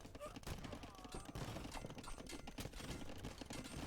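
Hand cannoneers fire in a medieval real-time strategy game, a dense, busy volley of gunshots and thumps from a large battle that runs continuously throughout at low level.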